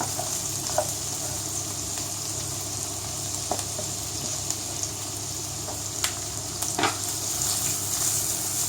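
Chopped onion frying and browning in a pan, a continuous moderate sizzle with occasional sharp pops and stirring clicks, no voices.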